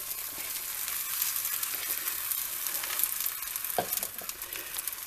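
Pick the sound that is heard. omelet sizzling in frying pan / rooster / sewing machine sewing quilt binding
omelet sizzling in frying pan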